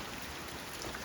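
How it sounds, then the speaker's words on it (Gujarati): Light rain falls steadily on a farm during the monsoon, a soft, even hiss of drops that fills the whole moment with no voices. "થોડો જ વરસાદ આવે છે"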